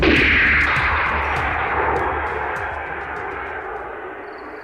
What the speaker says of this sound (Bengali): ধুম ধুম করে গুলি করে দিল ওরা ওকে